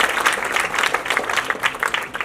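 Audience applause at a Hindi album launch, a dense patter of many hands clapping steadily at moderate volume for a couple of seconds.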